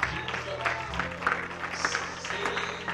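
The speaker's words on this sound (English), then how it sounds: "One more hand clap for this great" Church congregation clapping during a sermon, a steady wash of hand claps with faint voices and music underneath throughout.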